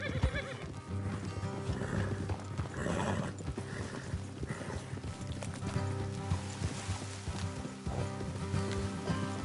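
Horses trot and whinny in the open-world Western video game Red Dead Redemption 2, with clip-clopping hooves, several neighs and faint mechanical game ambience blended with a musical score.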